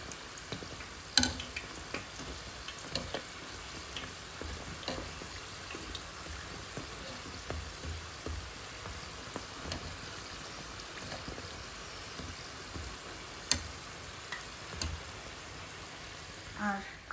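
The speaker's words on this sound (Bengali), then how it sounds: "এখন এগুলি ভাজাভাজি শুরু করব। সিঙ্গাড়া দিয়ে দিয়েছি এখানে।" Singaras, Bangladeshi samosas, fry in hot oil with a steady crackling sizzle that runs the whole time, broken by a few sharper pops and light clinks.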